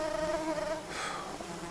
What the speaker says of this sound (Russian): Но в основном сейчас мухи.